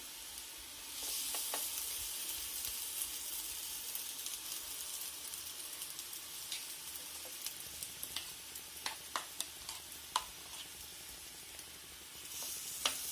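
Batter is poured into a hot pan and fries in oil, a soft continuous sizzle that turns into sharper crackles and pops partway through, with no voices.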